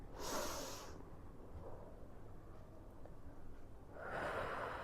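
Soft, breathy exhales during a slow forward-bending exercise, one at the start and another near the end, quiet and close with faint room hiss between them.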